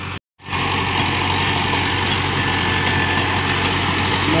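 A Mahindra Arjun Novo 605 DI tractor engine idles with a steady low rumble and mechanical hum, continuous after a brief cut at the start, at a rotavator demo.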